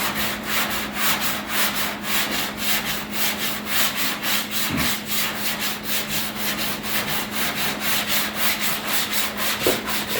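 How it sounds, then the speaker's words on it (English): Sanding block worked by hand across the bodywork of a 1968 Fastback, a steady rhythmic rubbing scrape with even back-and-forth strokes continuing throughout, close and fairly loud with no talking. "So I would stand up and sand down. With that block, you can use one hand."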